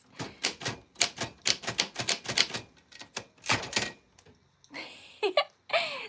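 A vintage typewriter clatters close by in quick irregular keystrokes, followed by a couple of sharper clacks and a carriage-return zip.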